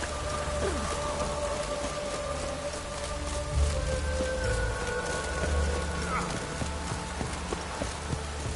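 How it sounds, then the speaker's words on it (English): Steady rain falls in The Witcher 3, a continuous hiss of drops with horse hooves clip-clopping through it and a low game music drone underneath, no talk. "Looks like rain."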